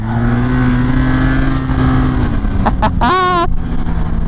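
A snowmobile on freshly opened trails in -3°F cold: a loud, close engine drone holds steady, then revs sharply in a rising whine near the end.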